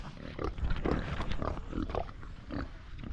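Pigs grunt repeatedly at close range, a series of rough, low snorts in an irregular rhythm with no talking.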